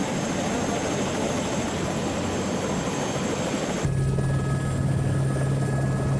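A mountain rescue helicopter taking off, its loud steady rotor and engine roar filling the whole stretch, shifting to a lower droning pitch partway through.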